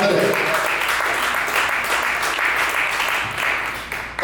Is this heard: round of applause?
yes